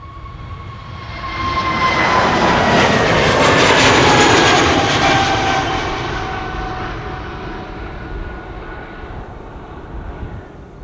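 An airliner on KM Malta flight 395 bound for Malta departs Amsterdam Schiphol Airport, its jet engines swelling into a loud, steady roar with whining tones as it passes, then slowly fading into the distance.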